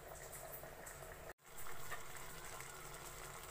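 A covered pot of potato and prawn curry simmers with a soft, continuous bubbling hiss, briefly cut off by a short break before the steady low simmer resumes.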